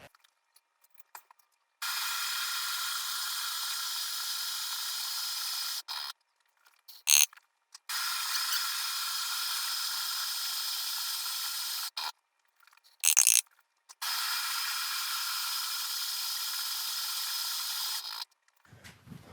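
Burr coffee grinder set coarse for cold brew, grinding beans in three long loud bursts of steady whirring and crunching, broken by short pauses and brief clicks, with no talking.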